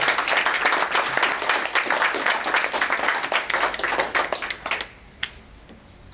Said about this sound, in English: I just like to give a round of applause to all our blue shirts, our community affairs.